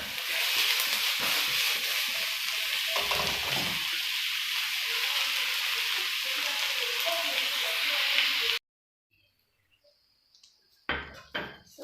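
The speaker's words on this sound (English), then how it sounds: "And we wait for the onions to cook." Onions fry in a pan for Lyonnaise potatoes with a steady, close sizzle lasting about eight seconds, then the sound cuts to near silence broken by a few soft knocks.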